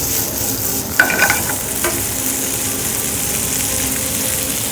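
Turkey and bacon fry in a pan with a steady, close sizzle throughout, broken near the start by a few brief stirring scrapes and clatters.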